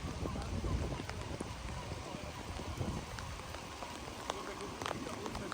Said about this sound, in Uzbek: Yomg'ir yog'ishi.